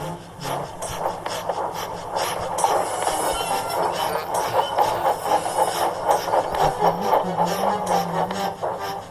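Cartoon steam engines push and puff with a steady rolling train rumble, rhythmic clatter and occasional squealing tones throughout, with no talk.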